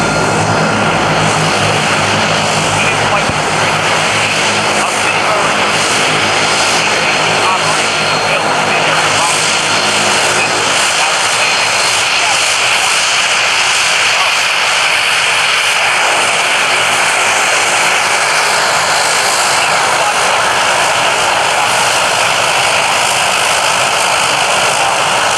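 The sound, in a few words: Harrier jet aircraft at air show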